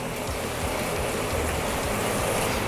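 Minced garlic sizzles in a hot pan, a dense, steady crackling hiss that runs without a break, close and fairly loud, with no talking.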